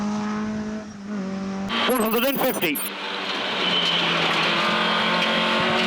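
Rally car on a night stage of a historic rally, heard from inside: engine roaring under load, a sharp burst of revving and gear changes midway, then a steady hard-driven drone, with a co-driver's voice calling briefly.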